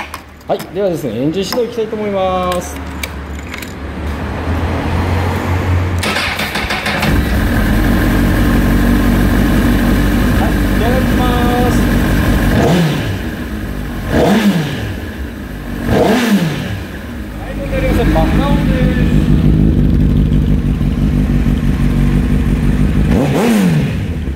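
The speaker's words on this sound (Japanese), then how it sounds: "インジェクションのね4気筒サンド非常に歯切れ良かったですね" A Honda CBR1000RR SC57 four-cylinder fuel-injected superbike with a racing muffler idles with a deep, crisp burble, then revs in several sharp throttle blips that rise and fall back to idle, loud and close.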